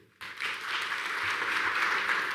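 An audience at a book launch at Consulat Voltaire breaks into applause after a moment of quiet, a dense, steady clapping that builds and holds.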